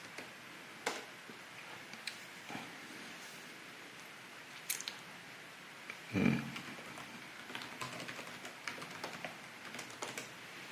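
A password is typed on a computer keyboard tied to a Raspberry Pi setup, soft scattered key clicks at close range with one louder thump midway, no talking.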